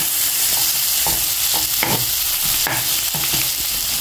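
Ginger, onion and garlic sauté in a hot pan with a steady loud sizzle, while a utensil scrapes and stirs in several distinct strokes; no talking.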